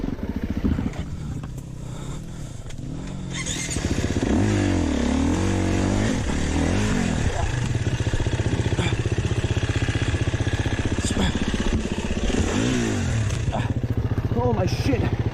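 A dirt bike engine revs and drones steadily while riding through bush at Bawley Point, loud and close, rising as the throttle opens, with excited talking over it.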